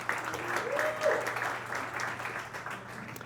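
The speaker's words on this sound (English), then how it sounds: "So big round of applause for the Mantle team for doing this again." An audience at a tech conference applauds an organizing team, a steady wash of clapping at moderate distance, lasting a few seconds with no voices standing out.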